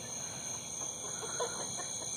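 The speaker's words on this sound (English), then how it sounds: "grab those chickens and throw them in the coop" Soft clucking of chickens, close by at night while being caught for the coop, against a steady high-pitched background whine.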